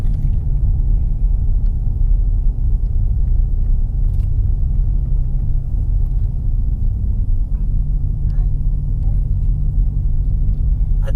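A car driving along a road, its steady low rumble heard from inside the cabin, constant and fairly loud for the whole stretch with no talk.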